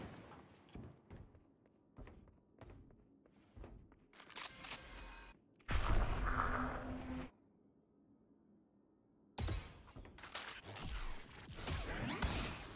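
Gunfire in the tactical shooter Valorant comes as sharp broadband cracks and thuds in several bursts, with a loud sustained blast in the middle and another dense run of shots near the end.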